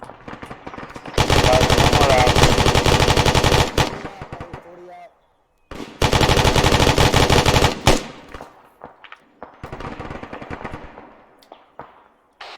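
Loud, close machine-gun bursts from a military video game squad training session, firing in long sustained volleys with short pauses and a few lighter scattered shots between them.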